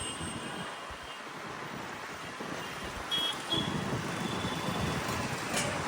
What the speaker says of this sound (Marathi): वारं पण सुटलंय इथं. वादळ सुटलंय.